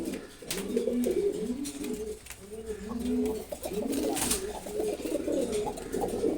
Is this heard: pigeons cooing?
yes